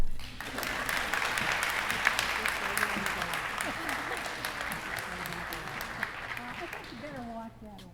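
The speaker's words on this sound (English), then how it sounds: "Now you can all clap." An audience at a high school senior awards night claps in a sustained round of applause, dense and moderately loud, with murmured voices underneath, tapering off near the end.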